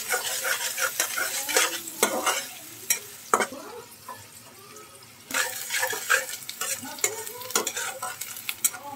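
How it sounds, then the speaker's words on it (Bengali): Sliced onion, about a cup, frying in oil in a pan for a prawn coconut-milk malai curry, a steady bright sizzle broken by stirring scrapes and clatters, close and loud. "ভালো করে ভাজতে হবে পেঁয়াজটাকে।"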